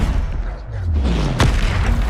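A single heavy boom from a Bombarda spell explosion in Hogwarts Legacy hits loud and close halfway through, falling into a low rumbling tail amid ongoing combat noise.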